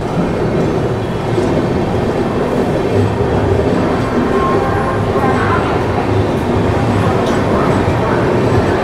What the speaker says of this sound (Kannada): ಬೇರೆ ಓವರ್ಟೇಕ್ಸ್ ಎಲ್ಲ ಬರ್ತಿದೆ, ತೆಲಂಗಾಣ ಎಕ್ಸ್ಪ್ರೆಸ್ಸು, ಅದಾದಮೇಲೆ ಗ್ರ್ಯಾಂಡ್ ಟ್ರಂಕ್